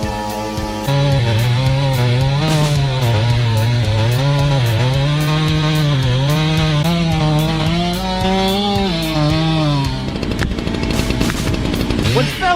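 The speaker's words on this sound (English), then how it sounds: "The woodcutter is sawing wood under the canal." Chainsaw cutting wood under a stream of canal water, a loud, continuous engine whine that wavers in pitch as the cut proceeds, then breaks into rougher, noisier revving near the end.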